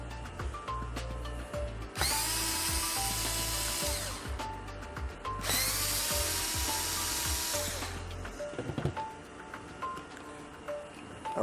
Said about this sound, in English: we're going to take those screws out.